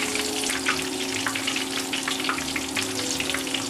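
Spinach leaf in tempura batter fries in hot oil, a dense close crackling sizzle with scattered pops over a steady hiss, with no one speaking.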